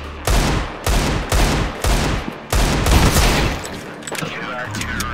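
Loud bursts of automatic gunfire in CS:GO on the Ancient map come in four or five rapid sprays with short pauses between, then a longer sustained volley trailing into scattered shots and game sounds.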